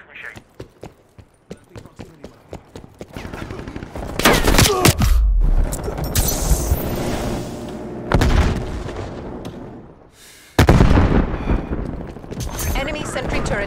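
A death machine minigun fires in a multiplayer shooter game, rapid sustained bursts and heavy booms in a dense, loud barrage with short gaps, while a voice speaks over parts of it.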